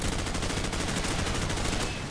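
An M4 Carbine fires in Call of Duty 4: Modern Warfare, a loud, dense stream of rapid automatic shots running unbroken from start to finish.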